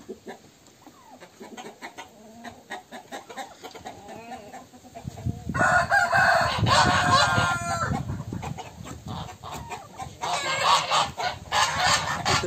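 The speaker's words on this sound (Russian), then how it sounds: "гуси, уточки." Soft chicken clucking at first, then loud, insistent goose honking erupts and continues in overlapping calls, close by, on a farm.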